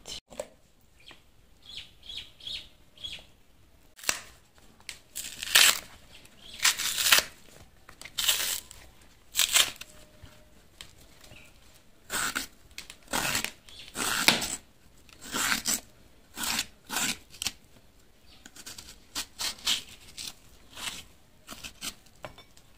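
Plantain bananas being peeled by hand for a Comorian fried chicken dish, with repeated close, rough tearing and scraping bursts in an irregular rhythm.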